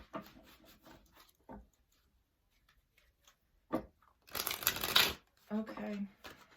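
Tarot cards are shuffled by hand in two brief riffling bursts near the microphone, surrounded by quiet pauses and a few soft handling taps.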